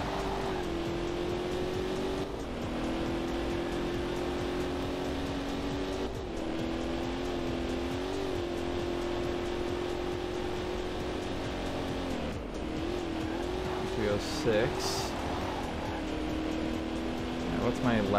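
Corvette race car engine droning steadily through a hot lap in the PC game Corvette: 50th Anniversary, pitch rising and dipping with shifts and corners, with someone talking over it.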